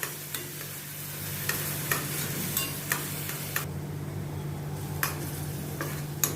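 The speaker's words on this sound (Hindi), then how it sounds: "अभी इनको अच्छी तरह से थोड़ा सौते करती हूँ, जैसे अनियन थोड़ा सॉफ्ट हो जावे और इनका कच्चापन थोड़ा निकल जाए, गार्लिक और अनियन का।" Onion and garlic sauté in a pan with a steady sizzle, while a spoon stirs them and gives regular light scraping clicks against the pan, close and alone.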